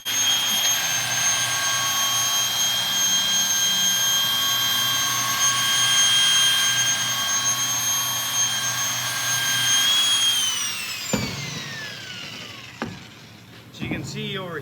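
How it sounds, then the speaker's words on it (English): An angle grinder with a worn 120 grit disc works over stainless steel, giving a steady high-pitched whine and hiss that winds down near the end, followed by a couple of brief knocks. "a worn 120 grit grinding disc. It buffs it out and blends it pretty good."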